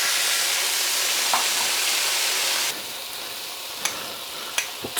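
Light soy sauce poured into a pan of frying Korean chicken wings: a loud, steady broadband sizzle that suddenly drops to a softer hiss, followed by a few sharp clinks near the end.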